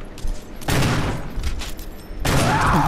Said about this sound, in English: Makan shotgun dulu bang.